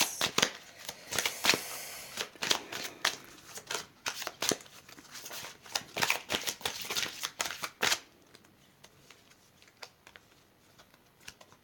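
Tarot cards being shuffled, somewhat sticky and catching, give a run of close, dense riffling flutters and slaps for about eight seconds before easing into quieter, sparse rustles.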